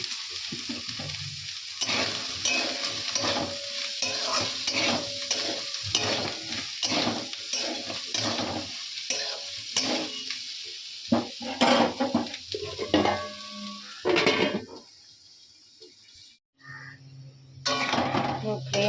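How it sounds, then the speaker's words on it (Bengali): Soybean chunks with spices and potato being sautéed in a pan, with steady scraping strokes of a spoon and a low sizzle, while a voice talks over the cooking and the noise briefly drops out near the end. "এখানে মশলা দিয়ে সয়াবিনটা কষানো হচ্ছে"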